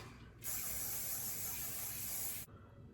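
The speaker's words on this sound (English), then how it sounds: "Okay, spray again." A steady aerosol hiss of hairspray sprays continuously for about two seconds, close and fairly loud, then cuts off abruptly.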